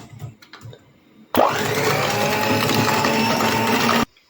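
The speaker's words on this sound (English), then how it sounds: "And then mix everything together with a mixer." An electric hand mixer whirs steadily through a batch of vanilla crescent Christmas cookie dough, starting abruptly after a few soft kitchen knocks and running loud and even for close to three seconds before cutting off.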